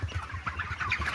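Cornish Rock Cross meat chickens near the end of production, around five to six weeks old, cluck in a steady low murmur with soft repeated calls, close by and at a constant level with no talking.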